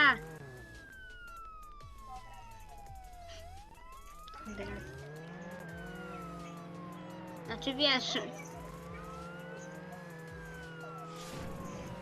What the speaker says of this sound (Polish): Szybko! Jedzie policja!